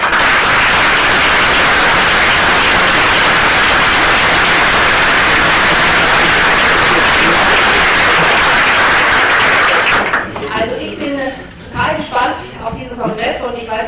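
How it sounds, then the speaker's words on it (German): Loud, dense applause from a congress audience fills most of the clip, then breaks off sharply near the end as a voice begins speaking. "ist einen guten Applaus für dich wert."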